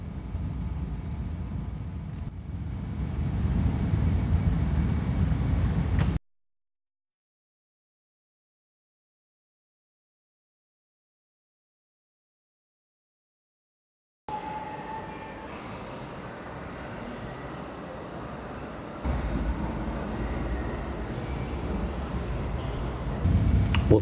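A model train engine pulling away on a layout, a continuous rolling rumble and hum, then a long gap of silence before quieter running and mechanical whirring resume.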